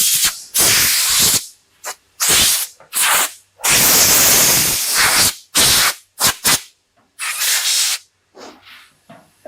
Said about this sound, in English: let's blow it off. I didn't know why they get glue all over my blowgun